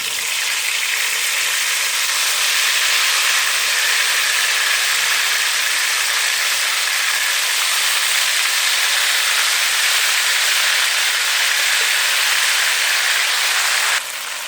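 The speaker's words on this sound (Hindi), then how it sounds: "इस चिकन को थोड़ा सा हम लोग फ्राई कर लेंगे इसमें पहले" Chicken pieces fry in hot oil in a kadai, giving a loud, steady sizzling hiss that holds unbroken for the whole stretch, close and alone with no talking.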